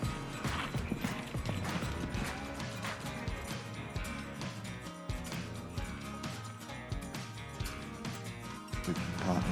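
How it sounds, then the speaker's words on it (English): Hooves of an 8-year-old mare clip-clopping across a show jumping arena during a 1.30 m futurity class, a steady rhythmic beat at moderate distance under arena music and background noise. "Another Casiago horse. 8-year-old mare by Casiago out of a staccato mare."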